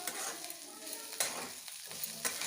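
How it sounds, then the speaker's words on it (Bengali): Bitter gourd (karela) frying in a pan on a home stove, a steady close sizzle with soft stirring scrapes and a few brief clatters, no talk. "এই দেখো বন্ধুরা কাল্লা ভাজা চলছে"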